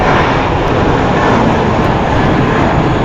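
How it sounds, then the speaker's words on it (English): An Airbus A320 airliner roars down the runway on takeoff at LAX, a loud, steady broadband engine rush with no gaps, close and filling the whole span. "Lots of these planes are taking off quickly."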